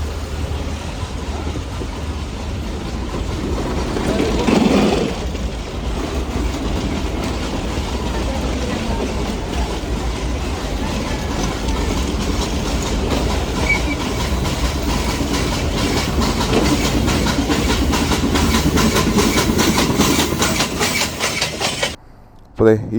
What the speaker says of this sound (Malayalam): ഈ കാണുന്ന പാളത്തിൽ കൂടിയാണ് ട്രെയിൻ ഇപ്പം അങ്ങോട്ട് പോയത്